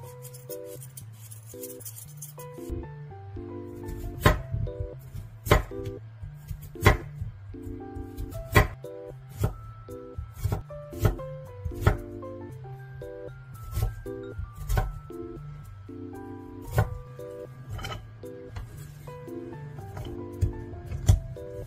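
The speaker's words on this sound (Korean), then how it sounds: "먼저 감자는 껍질 벗겨 분쇄기에 갈기 좋게 잘라주세요" A knife cuts peeled potatoes into pieces on a board, making repeated sharp chopping knocks in an uneven rhythm over soft background music.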